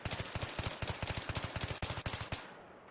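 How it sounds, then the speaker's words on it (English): Loud automatic fire from a gun in Battlefield 3, several quick bursts of closely spaced shots with brief gaps, ending abruptly into quiet, no voices. "by firing at that, she got a pretty wide spread off that burst fire"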